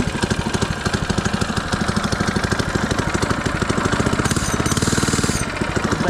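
An FRP GMB 100 retro mini bike's small single-cylinder engine runs at idle with a fast, steady, thumping chug, close and fairly loud, briefly picking up in pace near the end.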